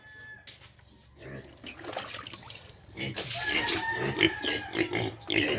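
Hungry pigs grunt and snuffle close by at morning feeding, with splashing and trickling water and a voice speaking over the noisy feeding.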